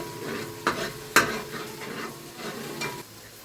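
Onions for a beef karahi frying in a pan, a soft steady sizzle with a few sharp scraping stirs of a spoon against the pan, close and alone without talk.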